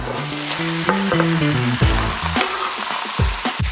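Chicken strips searing in a wok for a chicken curry, a steady loud sizzle with metallic scraping and stirring clinks throughout, close up and without talk.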